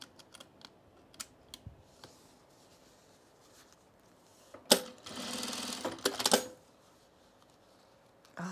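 An industrial sewing machine stitches cargo pants in a quick, buzzing run of about a second and a half, preceded by scattered clicks and handling taps, then a final short burst.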